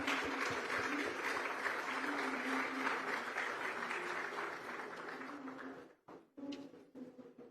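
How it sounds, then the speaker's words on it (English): An audience at a large investment summit applauds in a dense, steady wave of clapping that holds for several seconds, then breaks off abruptly into a few scattered claps and some room noise. "everybody, please give a big applause to the"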